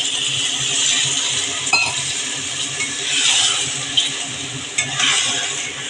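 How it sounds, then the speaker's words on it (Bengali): Water poured into a pan of frying potol (pointed gourd) masala in oil, giving a steady close sizzle with stirring scrapes and a couple of metallic clinks against the pan. "এখন আমি একটু সামান্য জল দিয়ে দিই"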